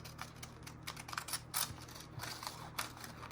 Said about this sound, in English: we will use our pinking shears for the bottom